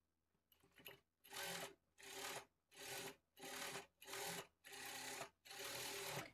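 Sewing machine stitching a blouse, running in seven steady bursts of rapid whirring stitches separated by short pauses, close and fairly loud with no talk.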